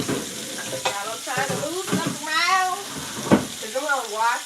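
Salmon bites sizzle in a pan during a home cooking show for shrimp and grits, a soft frying hiss with a few stirring clicks running under someone talking throughout.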